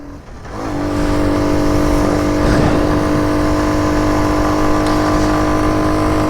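A Honda CT90 Trail 90 motorcycle ridden in the rain, its small engine holding a steady loud drone close by, with a constant wash of wind and road noise and no speech.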